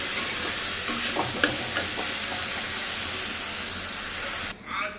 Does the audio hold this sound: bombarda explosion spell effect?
no